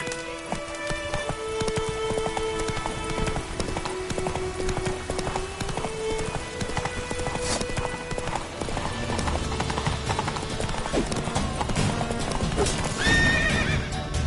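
Roach the horse galloping with rapid rhythmic hoofbeats and repeated loud whinnies, set against a busy game soundtrack with rain and music throughout.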